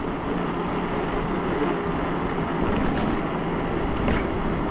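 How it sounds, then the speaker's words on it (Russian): A gusty crosswind on a sunny February coastal ride in Crimea buffets the microphone, a broad steady roar with slight swells, loud and unbroken, with no talk. "Да, ветер, падла, какой-то боковой."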